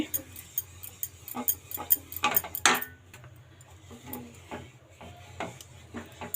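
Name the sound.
stirring Bombay Karachi halwa in a pan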